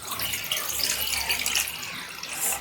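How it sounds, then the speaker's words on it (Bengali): Rice-washing water poured off in a kitchen while making murighonto, a steady splashing gush running close and continuous for a few seconds. "এবার জলটা ফেলে দেব।"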